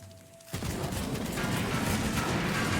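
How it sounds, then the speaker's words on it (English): An anchor-shooting weapon in Tiny Tina's Wonderlands opens up after a brief quiet moment, loud, dense firing and impacts rolling on continuously to the end. "You shoot actual anchors."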